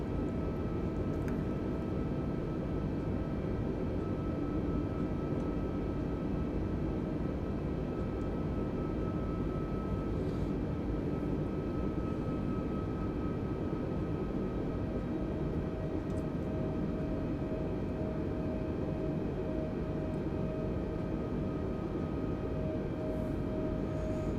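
An airliner in Microsoft Flight Simulator 2020 descends with its flaps lowering, giving off a steady, unbroken engine and airflow drone with faint tonal hums running throughout, even and moderately quiet, with no voices.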